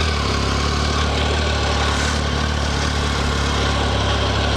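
A 2015 Triumph Tiger Sport 1050 triple idles nearby, a steady, even engine drone that holds unchanged for a few seconds with no talking over it.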